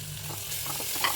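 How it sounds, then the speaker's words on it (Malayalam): Onions being sautéed in a pan, a close crackling sizzle with spatula stirring and scraping strokes, steady and moderately loud throughout. "അതിലേക്ക് സവാള ഇട്ട് നല്ലോണം വഴറ്റുക"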